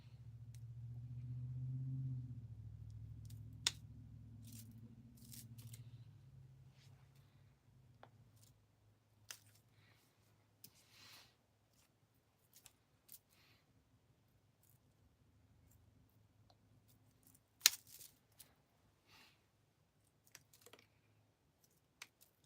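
Scissors trim cannabis plants with sparse, sharp snips scattered irregularly over a quiet room, following a low rumbling hum that fades out in the first few seconds.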